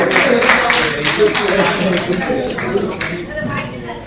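Applause from a Hindi kavi sammelan audience welcoming a poet, a dense continuous patter of clapping that stays steady before thinning slightly toward the end.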